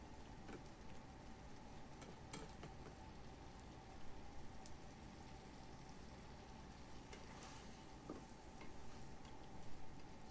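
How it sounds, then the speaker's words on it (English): Food simmering and bubbling in a pan while being stirred during meal prep of frozen burritos, a faint, steady crackling hiss with occasional soft scrapes of the spoon. "it's starting to really bubble and simmer"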